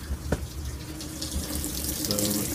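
Water runs steadily into a washing machine as it fills, a continuous close rush of flow with soap already added, with a brief knock near the start.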